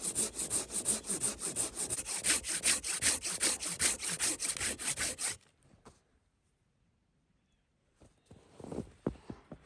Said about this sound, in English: I'm gonna do the back with the saw and wedge it over